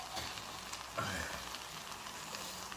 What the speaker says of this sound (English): now is the time for us to put tomato puree